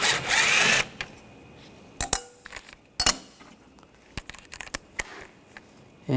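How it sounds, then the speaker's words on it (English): A power tool fitted with a 7mm socket runs in a loud initial burst to remove bumper cover screws on a 2013-2022 Buick Encore 1.4L L4, followed by sharp clicks and clinks of metal parts and handling. "We're going to use a 7mm socket. Take those screws out."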